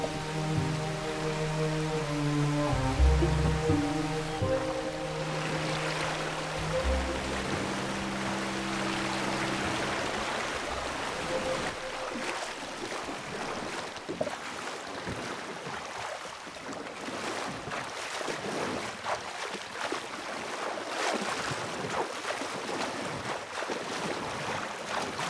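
Steady rushing creek water in Red Dead Redemption 2, a constant splashing wash that becomes clearer and more prominent after a few seconds of fading background music, with no talking.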